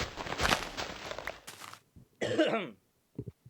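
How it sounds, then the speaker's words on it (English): A raspy, noisy cough up close, followed by a throat-clearing rasp and a few small trailing sounds. "sorry, I had to cough."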